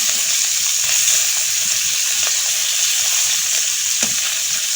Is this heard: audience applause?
no